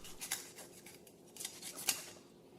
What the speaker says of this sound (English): I'm going to cut it just beneath the first layer of the muscle